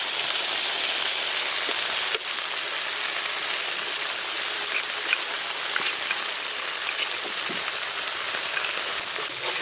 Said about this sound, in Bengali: এবার দিয়ে দিচ্ছি পোস্ত বাটা।